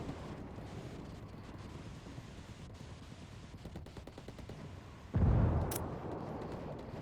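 A C4 charge detonating in the shooter game Ghost War, one sudden loud blast with a decaying rumble that breaks through quieter background gunfire and noise, no voices present.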